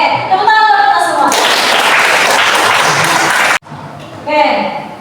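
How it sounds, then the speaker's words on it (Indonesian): A classroom group claps together, a dense burst of hand clapping lasting a few seconds, loud and close, with voices before and after. "Oke, tepuk tangan buat kita semua."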